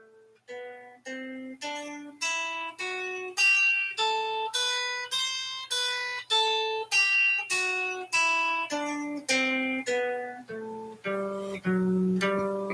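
A guitar melody played with down-up picking in a holiday practice exercise: a steady run of about eighteen evenly timed single notes, each ringing clearly before the next, rising and then falling back down.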